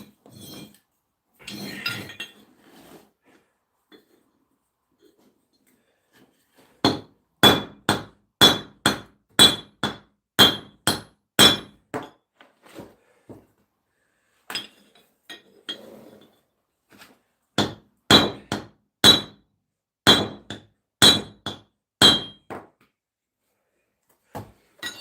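A horseshoe is hammered on a small anvil while being shaped for a Clydesdale Quarter Horse cross: sharp, ringing metallic strikes come in two rapid, evenly spaced bursts, close and loud, with a few quieter knocks between.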